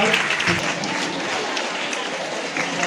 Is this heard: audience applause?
yes